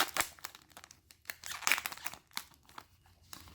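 A Final Fantasy XIII Art Museum Kai trading card booster pack is torn open down the middle, with close, quiet crinkling and ripping of the wrapper in irregular bursts.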